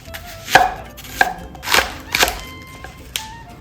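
A knife chops chives finely on a cutting board, giving a handful of sharp, distinct thuds at irregular intervals. The strikes are close and clear with quiet pauses between them.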